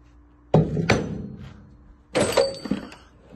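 A metal ratchet wrench is picked up and handled in a garage during engine removal on an 8700 tractor, giving two separate bursts of clunking and clattering, each with a sharp thunk and rattling metal contact at close range.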